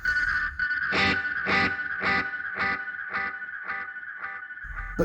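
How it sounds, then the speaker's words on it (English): An analog delay pedal with its echo volume and delay settings turned fully up self-oscillates, giving a loud, sustained, warm distorted tone that swells in a steady pulsing repeat roughly every half second. "Getting self-oscillation."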